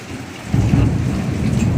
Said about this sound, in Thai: ฟ้าร้อง